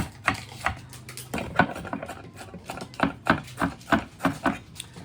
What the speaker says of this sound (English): I'm going to stop talking because it's slowing me down from chopping, and I will finish the onion